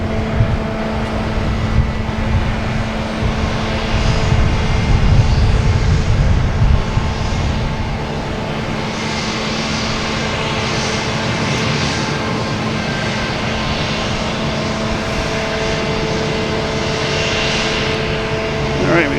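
A Delta Embraer E175 jet at Boston Logan Airport holds a loud, steady engine rumble with a whining tone riding over it, continuous and near, with talk likely underneath.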